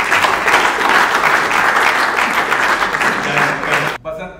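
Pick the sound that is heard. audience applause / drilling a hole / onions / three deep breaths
audience applause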